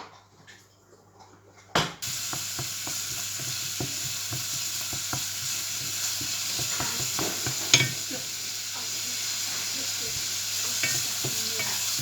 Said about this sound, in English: We'll start off by frying the onion to get the sweetness out of that onion.